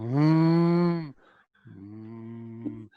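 Two long, droning cow-like moos from people imitating cattle during a tabletop role-playing game session, the first loud and sustained, the second lower and quieter after a short pause.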